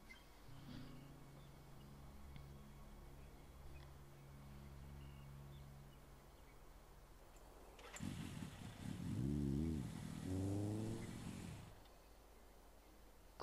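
Motorcycle engine in the game Gray Matter revving up after being repaired, a mid-pitched rumble swelling in for a few seconds toward the end after a quieter stretch of low hum.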